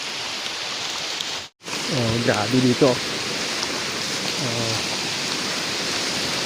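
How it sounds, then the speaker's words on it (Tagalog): Heavy rainwater rushing steadily down a farm footpath that is usually ridden by motorbike, a constant broadband roar with someone speaking briefly over it. "Grabe yung bagsak yung tubig dito sa daanan"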